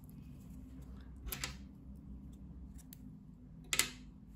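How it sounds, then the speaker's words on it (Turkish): Scissors cutting knitting yarn, two quick, quiet snips close by against a soft background hum. "İpliği kesiyorum."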